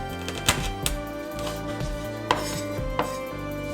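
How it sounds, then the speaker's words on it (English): A kitchen knife chops raw chicken wings on a cutting board, giving several sharp, irregular thuds over a continuous background hum. No voice is heard. "Now cut all the other wings in the same way."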